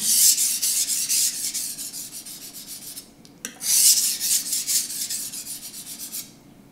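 Blade scraping back and forth across a Naniwa whetstone in rapid, rhythmic raspy strokes, close up, with a short pause midway before resuming.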